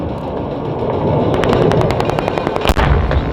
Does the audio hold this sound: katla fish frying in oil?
no